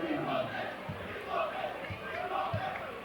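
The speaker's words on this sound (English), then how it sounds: "Crowd chanting for Aaron Metz" A high school basketball crowd in a gym chants rhythmically for a player, the repeated chant rising and falling across the stands at moderate distance, mixed with general crowd noise.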